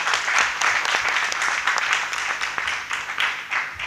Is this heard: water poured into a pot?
no